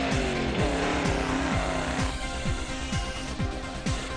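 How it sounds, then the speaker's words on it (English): A Ford Ranger rally truck races along the Lichtenburg 200 off-road track, its engine loud and close, revving through a rapid series of rising gear pulls. "Another Ford Ranger making its way is Tiens van Rensburg and Anton Venter."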